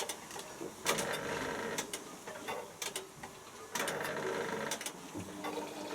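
Bosch Silence WFS4300 washing machine in its final rinse, giving off a steady mechanical whir broken by repeated sharp clicks and thumps, rising in bursts near 1 and 4 seconds, close and fairly loud with no talk.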